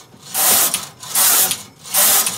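A knitting machine carriage swept back and forth across the bed in three rhythmic passes, each a loud, close mechanical whoosh and clatter.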